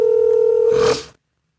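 Steady telephone dial tone on a call to a Denver TV news station, one loud, even hum lasting about a second before it cuts off into silence.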